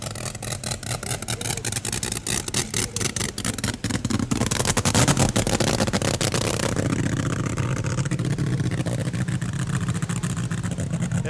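A rear-engine top fuel dragster at the 1971 NHRA Winternationals drag strip roars loudly and steadily, its dense engine blast swelling and holding for the full stretch with no talk over it.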